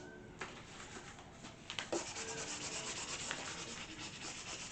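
A scraper rubs across a wooden porch sign being varnished, giving a soft, continuous scratchy rasp with a few sharper strokes, close by and fairly quiet, with no talk.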